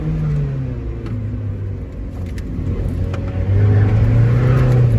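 A 1999 Mazda Miata NB runs on a test drive, its engine droning steadily from inside the cabin and rising in pitch as it pulls harder near the end.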